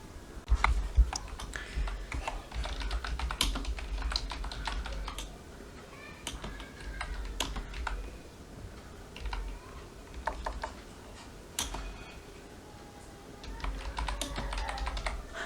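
Fingers type steadily on a computer keyboard, close and fairly quiet, producing clusters of light clicking keystrokes with small pauses between bursts throughout.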